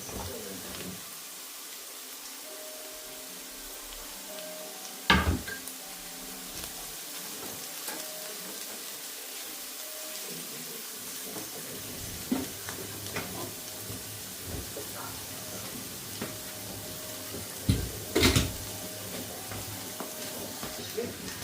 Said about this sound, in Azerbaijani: İndi biberini vurum. Bir yerdə qovrulsun.